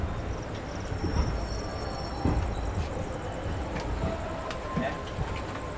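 The Chetak Express from Udaipur to Delhi rolls on just after leaving Kulara junction: a continuous low rumble with rhythmic wheel clatter and occasional metallic clicks, heard from on board, with faint voices in the background.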